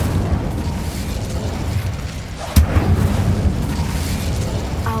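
A fiery spell blast from Hogwarts Legacy rumbles through a dense, roaring game soundscape, with one sharp, close burst cutting in around the middle before the low churning boom carries on.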